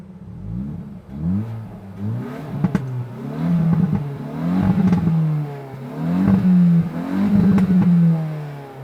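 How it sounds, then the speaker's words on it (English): A 2025 Hyundai i20 N engine revs repeatedly in rising surges, with sharp popping crackles from the exhaust at the top of several revs; loud and close. "it's got some pops and crackles"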